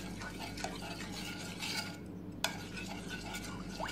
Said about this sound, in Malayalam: ഞാൻ നല്ലോണം ഒന്ന് മിക്സ് ചെയ്ത് കട്ടകളുണ്ടായതൊക്കെ ഒന്ന് ഡിസോൾവ് ആക്കി